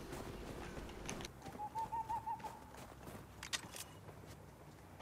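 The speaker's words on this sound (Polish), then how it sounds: "No ta, sowy tak słychać." Owls hoot in the Star Wars Outlaws video game, a short run of about five soft, evenly spaced hoots near a tavern, set against faint ambient noise and a few distant chirps.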